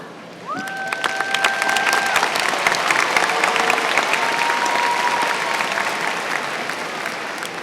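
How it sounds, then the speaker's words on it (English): Sustained applause fills a high school graduation ceremony, a large crowd clapping steadily at moderate distance. A few faint tones sound over the clapping early on. "Class of 2018, I applaud you."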